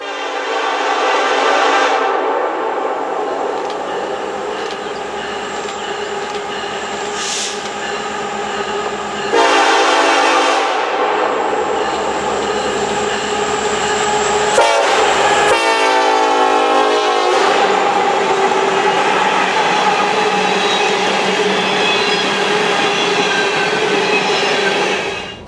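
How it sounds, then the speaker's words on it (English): Norfolk Southern westbound empty grain train passing on the Pocahontas main at Panther, loud and close, with sustained horn blasts, clattering wagons and squealing wheels rolling by for the full stretch. "we see a westbound empty grain train, NS-54W, flying west."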